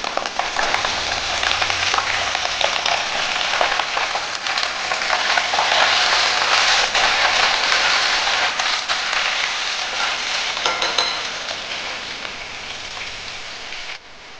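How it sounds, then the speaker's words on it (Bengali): Eggplant pieces frying in a pan for a Bengali lauki shak, giving a steady, dense sizzle close up that carries through the whole stretch and eases off slightly near the end; no one speaks. "এই বেগুনগুলো দিয়ে ভেজে নেবো আবার একটু।"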